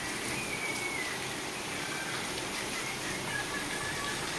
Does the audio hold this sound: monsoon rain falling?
yes